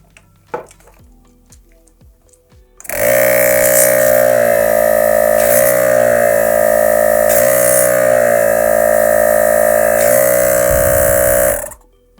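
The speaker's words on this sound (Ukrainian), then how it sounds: "Працює доволі тихо, але в той же час потужний потік повітря видає даний компресор." A small Molder Jet Air MA25110 12-volt electric car air compressor starts up and runs steadily with a loud, even mechanical drone and whine for about nine seconds, then stops.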